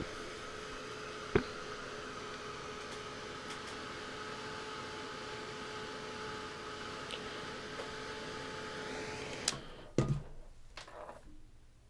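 A heat tool or dryer blows air over freshly painted layers of acrylic, a steady whirring rush that runs for several seconds at moderate level, then cuts off with a few clicks and handling knocks.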